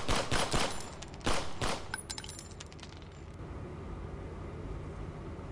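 A rapid burst of gunfire rattles out in quick cracks in a forest, then fades into a steady outdoor hiss as the shooting stops.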